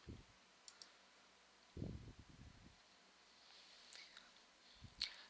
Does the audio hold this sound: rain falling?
no